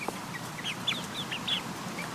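Hens cluck and chirp in a short run of high, close calls over a steady low background hum, with no talking.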